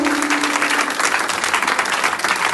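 Church congregation applauding and acclaiming the Lord: dense, continuous crowd clapping fills the space steadily throughout, loud and even with no talk over it.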